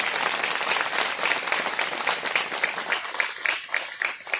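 Enthusiastic applause for a group of children at a village Anganwadi gathering, a dense, sustained crowd clapping that runs throughout at fairly close range, no voices above it.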